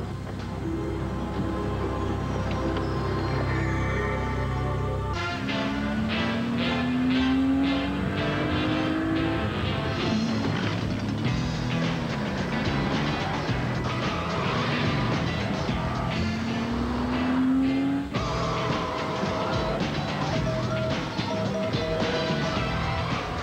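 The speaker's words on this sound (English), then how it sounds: "Porsche Boxster. There really is no substitute." Porsche Boxster sports car in a TV commercial, engine revving and accelerating with a rising pitch sweep, a second swelling rev later, mixed with music and a loud busy soundtrack.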